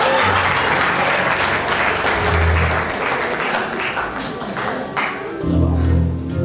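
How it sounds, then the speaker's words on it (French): An audience at a gospel album presentation claps in sustained applause, with scattered voices and cheers mixed into the dense clapping throughout. "Il veut qu'on applaudisse encore avant d'aller."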